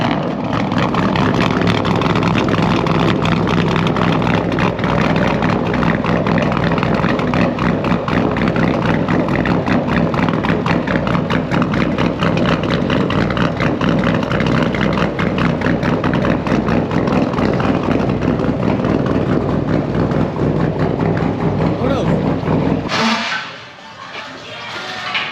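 A car engine idling at a gas station, a loud continuous rumble held steady and close for most of the time before it drops away near the end.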